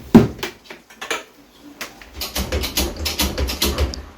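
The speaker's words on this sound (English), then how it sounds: "Using special tools, the spring is now being removed." Metal clinks and clanks from tools working on a BMW R1200 GS rear shock absorber as its spring is removed, a few sharp knocks early, then a busy stretch of close scraping and rattling metal.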